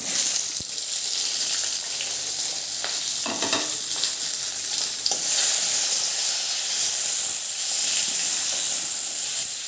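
Chopped onions and tomatoes with dry spices sauté over a low gas flame, giving a steady loud sizzle with occasional bursts of stirring and scraping in the pan.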